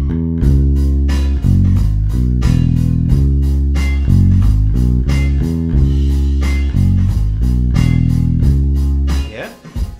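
Electric bass plays a riff over a full blues backing track with drums, a driving repeated pattern running for several bars before fading out at the end.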